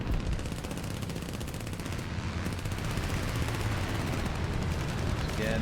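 Aircraft machine gun fire from a Gloster Gladiator biplane in the War Thunder video game, a continuous rapid rattle of rounds, loud and close over engine drone, with no speech.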